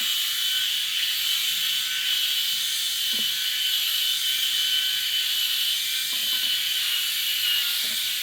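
A Bald Buddy electric head shaver hums with a steady, fairly loud buzz as it shaves a head. Occasional faint clicks and scraping come through close by.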